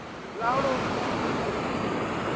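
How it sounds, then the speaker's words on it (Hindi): A swollen, flooded river roaring loudly and continuously, a broad rushing wash of water close by with wind buffeting the microphone and a brief voice near the start. "इतनी भयंकर नदी आ गई भगवान।"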